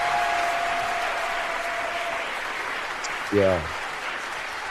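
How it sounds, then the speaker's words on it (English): A crowd at a radio show gives a steady wash of applause throughout, with a short spoken exclamation rising over the clapping near the end. "Give us a round of applause."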